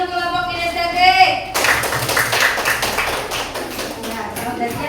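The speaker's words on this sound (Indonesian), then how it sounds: "Beri tepuk tangan dulu kelompok kinestetik." Classroom group of students clapping for a team coming up to present, brisk close applause that starts abruptly after a spoken voice and continues for several seconds.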